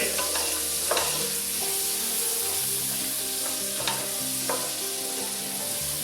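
Lobster chowder base with bacon and yellow onion sizzles steadily in a pot while being stirred, with scraping spoon strokes and occasional clinks over a constant fry hiss.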